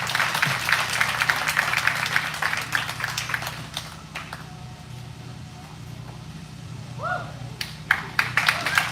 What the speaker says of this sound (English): Let's give them one more round of applause, guys.